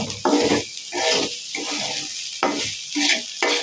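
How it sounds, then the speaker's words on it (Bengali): Rice stirred and fried in a pan with onions, whole spices and ginger-garlic paste for biryani, giving a close sizzle broken by repeated scraping stir strokes at an irregular rhythm. "এখন আমি এই চালটাকে ভালোভাবে একটু ভেজে নেব।"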